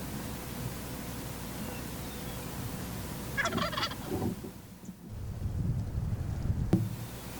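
A Rio Grande wild turkey in Oklahoma gives a single brief gobble from a distance, rising out of a steady outdoor background hiss midway through.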